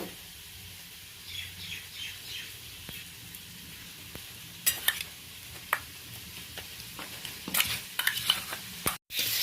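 Tomato, green chilli and onion soften in a frying pan with a gentle, low sizzle. Scattered scrapes and clicks of stirring grow busier toward the end, and no voices are heard.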